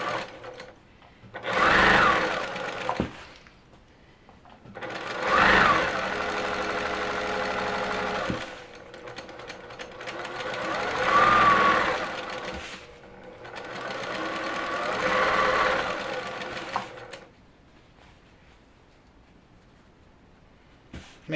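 Sewing machine stitching the bottom seam of a quilting project, four bursts of fast mechanical whirring separated by short pauses, close and clear.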